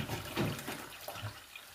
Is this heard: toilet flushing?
yes